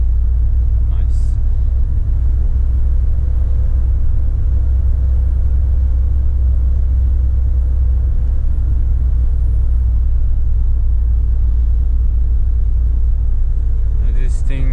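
Mercedes Actros 2541 truck engine pulling uphill under throttle in manual mode, a steady heavy low rumble that holds loud throughout, with someone talking over it.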